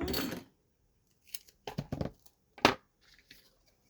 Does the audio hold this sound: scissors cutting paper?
yes